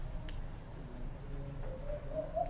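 Pen scratching on paper while writing out a maths proof about a geometric sequence, a close, quiet run of short strokes and scribbles with no talk.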